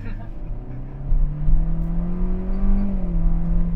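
A 2023 Hyundai Stargazer pulls away uphill from a standstill, its engine drone rising in pitch and loudness as it climbs, heard from inside the cabin with a voice briefly audible.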